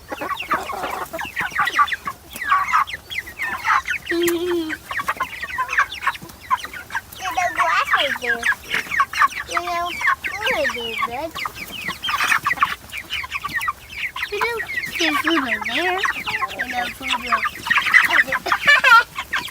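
Month-old chicks cluck and peep busily in their grass pen, close and continuous with overlapping soft calls and rustling throughout, and a few human voices mixed in.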